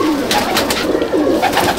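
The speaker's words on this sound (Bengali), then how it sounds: "জচ্ছা পায়রা" A Jachcha pigeon, a rare old Indian breed with red veining, coos in a close, steady run of low throaty calls that carries on without a pause.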